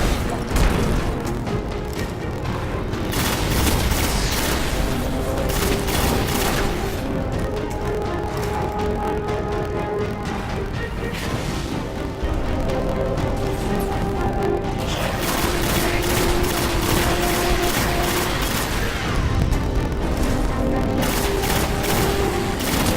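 Gunfire in the Destiny video game keeps up a dense, relentless barrage of shots and booms in rhythmic bursts, loud and close with brief lulls, with no voices.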